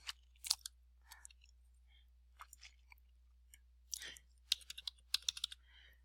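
Light, quiet keystrokes on a computer keyboard while an email address is typed, scattered irregular taps and short bursts over near silence, close and soft with no voices.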